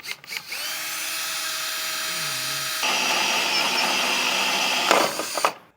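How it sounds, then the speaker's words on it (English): A power drill bores a hole for a Blue Ox base plate kit on a 2022 Jeep Grand Cherokee, whining steadily at close range, its pitch rising partway through before the bit spins down. "Get this drilled out."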